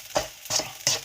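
Makhaddi halwa stirred in a pan over low heat, three distinct scraping strokes with soft sizzling between them, close and clear with no voices.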